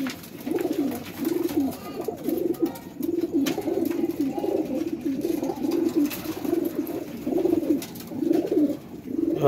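Pigeons coo in a steady, repeating rhythm of low, throaty calls, close by and continuous over faint background noise.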